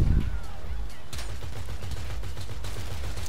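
Heavy cannon fire from attack helicopters pounds in rapid repeated bursts in the video game GTA Online, loud and continuous throughout, with a brief voice under the shooting.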